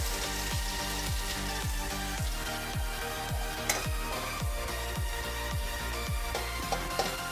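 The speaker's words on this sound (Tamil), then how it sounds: "இது பச்சை மிளகாய் பொரிஞ்சிடுச்சு" Green chillies and curry leaves crackle and sizzle in hot oil, a steady dense frying hiss with rapid popping bursts throughout, close and continuous with no talking.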